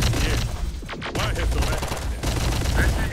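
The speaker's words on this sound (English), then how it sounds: "Even the shotguns are shooting at it." Heavy gunfire from a fight in the Terminator: Dark Fate - Defiance video game, shotguns among the weapons, with dense overlapping blasts and booms that keep up loudly for the whole stretch.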